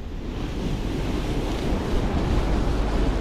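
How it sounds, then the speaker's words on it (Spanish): Rising sea washing in at a fishing spot, a steady roar of surf mixed with heavy wind buffeting the microphone, loud and continuous with no voices. "Está creciendo el mar, está metiendo agüita."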